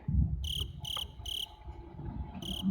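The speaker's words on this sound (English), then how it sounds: "Crickets. It's the crickets for me." Crickets chirp as a sound effect, four bright, evenly spaced bursts of rapid trilling over a low background murmur.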